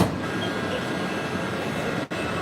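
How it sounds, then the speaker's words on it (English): A teal Disney monorail glides past at Walt Disney World's Magic Kingdom, a steady, even rumble and whoosh of rolling rail cars held at a constant level, with a brief dip near the end. "We're just watching that teal monorail head its way where? On Magic Kingdom."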